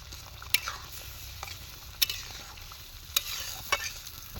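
A fried fish head is stirred into a simmering curry in a cooking pot. A low, steady sizzle runs throughout, with a few sharp scrapes and clinks of the spoon against the pot at irregular intervals.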